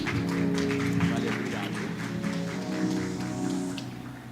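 Audience applause at Expoagro 2024 welcoming a speaker on stage, steady clapping over a hum, with a voice talking over it.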